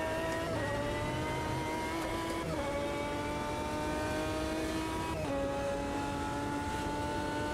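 Several racing cars in a video game drone steadily with high, revving engine notes that dip at each gear shift, the pack sustained and loud throughout.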